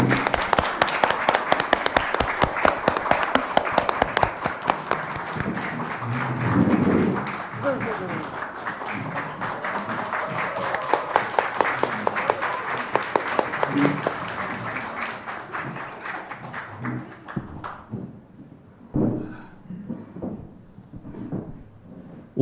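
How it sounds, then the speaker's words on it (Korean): A seated audience at a Korean public event claps steadily as a guest is welcomed onto the stage, loud and sustained applause that fades out near the end, followed by a few voices. "박수 부탁드립니다."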